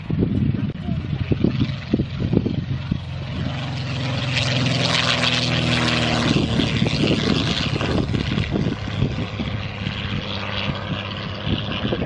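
Vintage propeller aircraft engine at the Old Warden air show, a loud sustained drone that swells in the middle and holds, with an announcer talking over it on the PA throughout.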